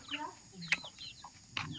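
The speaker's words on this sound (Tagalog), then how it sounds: "Yan, mga manok" Chickens cluck and squawk in short bursts at a moderate distance in the mountains, with a couple of sharper calls standing out over a quiet outdoor background.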